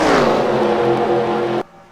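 Race car engines in the NASCAR video game whine and rev loudly, a rising, strained engine pitch held steadily before it cuts off abruptly.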